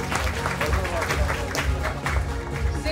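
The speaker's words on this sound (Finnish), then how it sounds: "Aplodit." Applause from a convention crowd at a cosplay contest, steady clapping over about three seconds with a dense, continuous texture and some voices mixed in.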